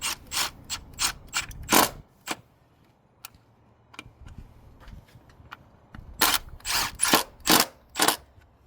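A hand ratchet tightening a fastener, producing two close, loud runs of rapid clicks separated by a quieter pause with a few isolated ticks.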